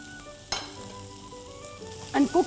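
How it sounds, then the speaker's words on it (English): Chopped onions sizzling with cumin seeds in a pan: a close, steady frying hiss with a sharp clatter near the start and two brief scraping knocks near the end, no speech. "Once the jeera is brown, add about a cup of onions."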